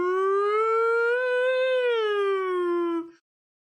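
A voice imitates a fire truck siren with one long, sustained wailing tone that rises slightly, holds for about three seconds, then cuts off cleanly into silence.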